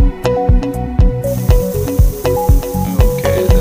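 Spray paint hisses in the video game Stencil Art Spray Masters, a loud series of short, regular bursts repeating about twice a second over a quiet musical backing.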